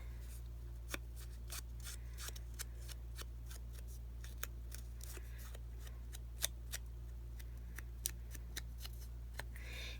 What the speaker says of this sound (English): That with my titanium scissors